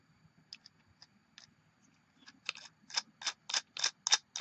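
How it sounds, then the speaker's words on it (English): A small M4 screw being tightened with a washer and nut on a solar LED light case, heard as a series of faint, close ticking clicks that grow quicker and louder toward the end. "then tighten it up with another washer and nut."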